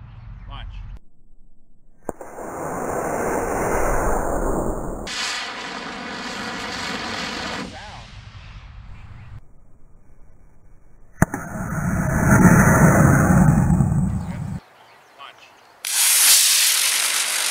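A model rocket motor launches on a very windy day, a loud sustained roaring burst lasting a few seconds, with gusty wind noise and brief voices around it.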